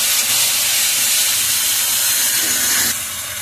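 Dried-chilli masala paste being fried and stirred in a pan for a tangra fish dish gives off a loud, steady sizzling hiss that runs without a break and eases slightly near the end.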